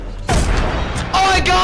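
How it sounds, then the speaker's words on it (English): A sharp video-game gunshot booms out suddenly, followed by a second loud burst a moment later, both carrying heavy reverberant tails. "Oh, I just shot."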